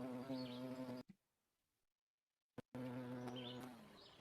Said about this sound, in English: When the bee flies, it gives us a bee sound